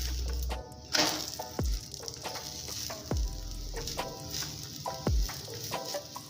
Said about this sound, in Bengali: এবার এই পিঠটাকেও আমি 2 মিনিট ভেজে নেব